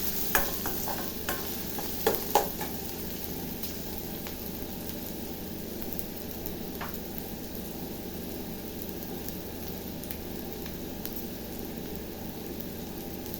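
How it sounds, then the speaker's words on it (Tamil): Vegetables for vermicelli upma sauté in a pan with a steady close sizzle, broken by a few sharp clinks and scrapes of stirring early on, with no talking. "நல்லா வதங்கணும்."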